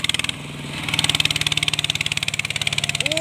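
Engine, likely a motorcycle, being revved: a steady, rapid, evenly pulsed running note that rises slightly in loudness partway through and then holds, fairly close, with no talk.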